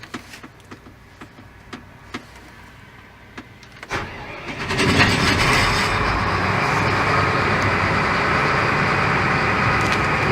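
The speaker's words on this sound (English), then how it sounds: "Start up the machine." A Gleaner S9 series combine harvester starts up: several clicks and relay ticks, then the engine cranks and catches, settling into a loud, steady roar that fills the rest of the clip, heard close without talk.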